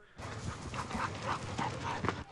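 Dogs tracking a bear through a busy residential neighborhood alongside conservation officers, heard as close panting and soft whimpering yips continuing steadily throughout.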